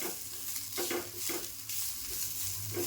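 Onion and coriander frying in a pan, a steady close sizzle broken by repeated scraping stirs of a utensil against the pan, with no talking.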